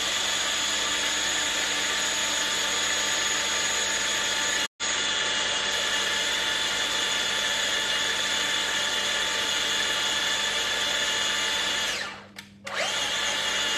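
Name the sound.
small electric mixer whipping eggs with sugar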